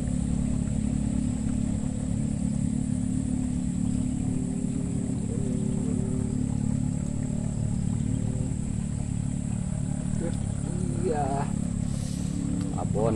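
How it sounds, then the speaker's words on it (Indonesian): Constant engine drone and rumble from road traffic with motorcycles passing close by on a riverside road during fishing, loud and unbroken, with someone talking faintly underneath. "jadi kedengaran suara kendaraan ya, suara motor-motor agak bising"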